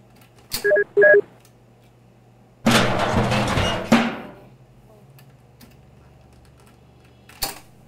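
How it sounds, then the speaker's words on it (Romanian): A telephone sounds two short electronic beeps in a room during a gaming session, followed later by a burst of broadband rustling noise and a faint steady hum. "Stați un pic că sună telefonul."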